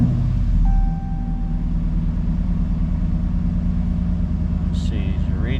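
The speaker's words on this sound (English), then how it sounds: "Let's start the truck." A Ram 1500 pickup with a bad ABS sensor cranks and fires, then settles into a steady low rumbling idle, close and loud, with a faint whine early on and a brief higher sound near the end.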